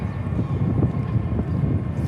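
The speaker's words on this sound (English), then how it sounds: "This is an A321 in from Ontario, California" An Airbus A321 at DFW airport rumbles as a steady low roar of jet engines, sustained and moderately distant, with no one talking.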